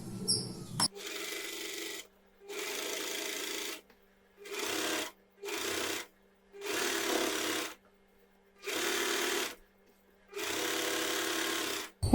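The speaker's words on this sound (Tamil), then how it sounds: "அதே மாதிரியே இப்போ அடுத்த சைடு நம்ம வந்து ஸ்டிச் பண்ணிக்கலாம்." A sewing machine stitches a hem on women's cigarette trousers in separate bursts of steady close whirring, each lasting a second or two, with silent gaps between them and a brief clunk at the start.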